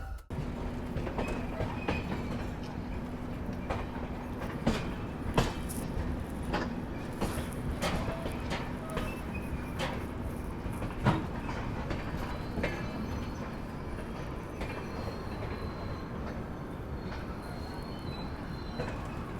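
The Farakka Express passenger train runs on rails with continuous rumbling and rhythmic clicks of wheels over joints, heard from inside the carriage at a steady moderate level.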